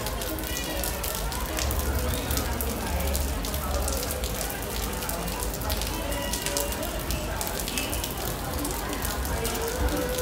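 Steady rain pours on a Jakarta street during Car Free Day, a dense even hiss of drops hitting surfaces, with an indistinct voice faintly under it.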